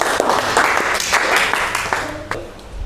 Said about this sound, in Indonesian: Tepuk tangan terlebih dahulu